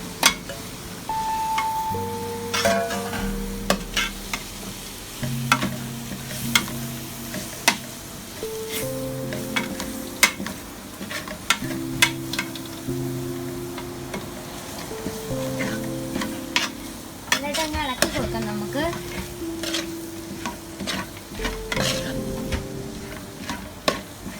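Duck curry with curry leaves and green chillies stirred in a hot pan, a continuous low sizzle punctuated by repeated sharp scrapes and knocks of the spoon, with a musical tone underneath.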